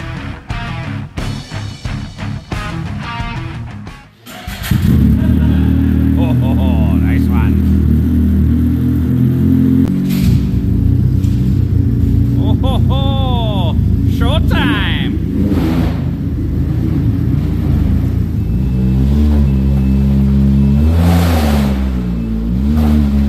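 A Ski-Doo-style Sidewinder and an 1100 Turbo snowmobile race side by side on a prepared snowy track, engines revving hard and rising in pitch, loud and close, with a steady roar after an opening stretch of talk.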